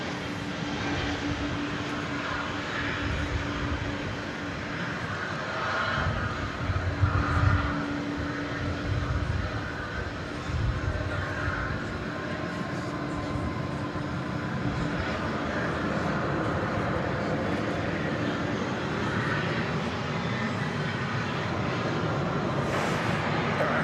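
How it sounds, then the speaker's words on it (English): American Airlines Airbus A321 on arrival from Nashville at DFW Airport, a continuous distant jet rumble that swells around seven seconds in and then stays at an even roar for the rest of the stretch. "we got a flight coming in from Nashville. Flight 2244 American Airlines. This is an Airbus A321."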